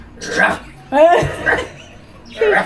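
A person imitates a dog with three short barking yelps, close and loud, spaced about a second apart.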